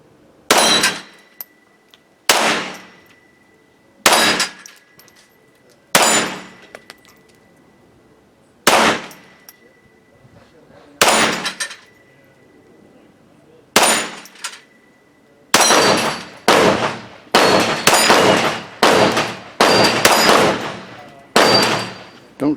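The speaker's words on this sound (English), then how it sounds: "Maybe I'll shoot the little dueling tree once" A .22 rifle fires at a steel dueling tree target outdoors, each sharp crack ringing with a metallic clang, first in widely spaced single shots, then in a faster string of rapid hits.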